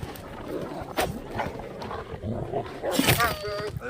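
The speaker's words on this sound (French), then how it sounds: "Oh, des loups." Wolves in the video game A Blind Legend growl and let out a rising howl near the end. A person talks loudly over the animal sounds throughout.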